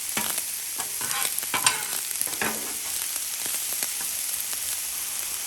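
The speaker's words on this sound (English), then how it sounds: "Then I'm gonna get my rice going. That rice is popping." Rice frying in oil on a Blackstone griddle, a close, steady crackling sizzle with sharp little pops and occasional spatula scrapes across the flat top, no voices.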